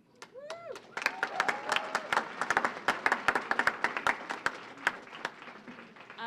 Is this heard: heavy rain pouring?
no